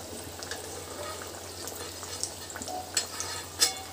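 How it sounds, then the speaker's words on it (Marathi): Sabudana vada deep frying in hot oil gives off a steady bubbling crackle, with a few sharper pops and clinks near the end and no talking. "याला आता आपण व्यवस्थित तळून घ्यायचं आहे।"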